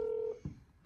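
A phone places a call with a short steady dialing tone that cuts off, followed by faint clicks and a soft thump nearby, with no one speaking.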